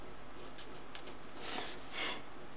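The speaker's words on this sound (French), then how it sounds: "Donc là, on colorie grossièrement comme ça." Rough coloring on paper while making a Stampin' Up! spinning card, heard as quiet scratchy marker or pencil strokes: a few short taps followed by two longer, louder scrubbing passes, alone in a quiet room.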